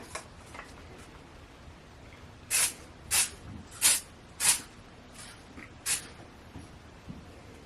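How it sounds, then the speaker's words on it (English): Five or six short hissing bursts of self-tanner spray onto the hands, fairly quiet and evenly spaced, over a faint background hiss. "now I will do a far off spray on the top of my hands too"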